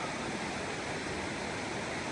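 Creek water flowing at a rocky stream crossing in the Joyce Kilmer Slickrock Wilderness, a constant close hiss and rush of moving water, even and unbroken, with no talking.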